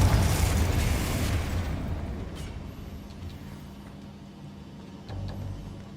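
A Confringo blasting spell explodes in a magic-themed video game, a loud booming burst at the start that rumbles and decays over a few seconds, followed by a softer thud near the end.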